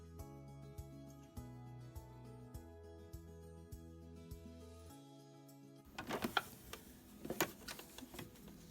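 Sewing machine stitching a quarter-inch seam along one side of a folded fabric square, a close rhythmic mechanical whirring in bursts, then handling clatter and clicks of the fabric and machine toward the end.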